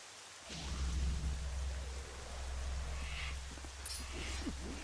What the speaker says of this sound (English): It's just nothing but rain.